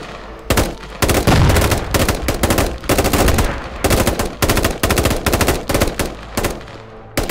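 Gunfire in a firefight in the Squad video game, with French foreign legion troops ambushed by taliban: dense bursts of automatic weapons fire and single loud shots crack repeatedly at close range throughout.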